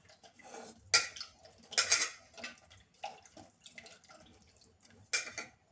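Soaked dahi vada being mixed by hand in a bowl of water, soft sloshing and dripping with sharp clinks of utensils against the bowl in irregular bursts, fairly close and quiet with no talking.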